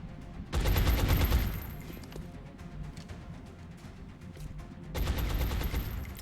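Pistol shots in the XCOM Long War game come as two loud bursts of rapid cracks separated by a quieter stretch of low rumble and faint clatter, with no voices.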